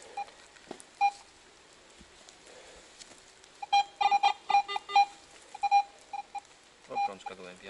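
A handheld metal detector at an old quarry gives short high-pitched beeps, sounding in quick bursts and clusters amid scraping and digging noises, with someone talking quietly in between.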